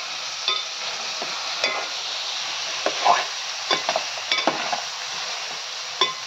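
Brinjal and other vegetables fry in a pan for a salted-fish curry, giving a steady close sizzle broken by scattered scraping stirs and light clinks, with no talking.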